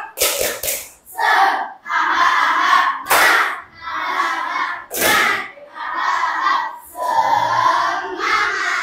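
Classroom students repeat a spirit clap routine, bursts of loud synchronized clapping trading with energetic unison shouting in a patterned sequence, close and loud throughout.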